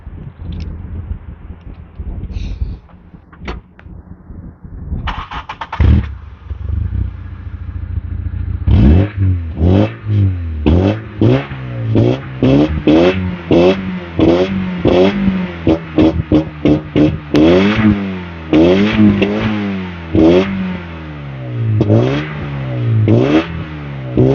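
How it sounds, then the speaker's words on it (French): A Volkswagen Golf GTI engine starts after some scattered knocks, then idles and is revved repeatedly in a long run of sharp, close, loud throttle blips, each rising and falling, with no talking. "On va écouter le son moteur."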